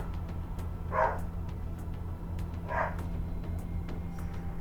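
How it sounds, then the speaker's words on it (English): A dog named Loki in the game Technobabylon barks twice, each bark short and somewhat muffled, spaced a couple of seconds apart over steady background hum and faint clicks. "Loki's barking"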